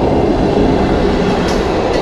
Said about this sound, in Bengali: ট্রেনটা বেরিয়ে গেল